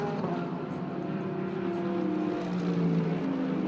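A Mercedes-AMG GT race car engine at the Indianapolis 8 Hour endurance race, a steady droning roar held at a fairly even level throughout, with a slowly shifting pitch.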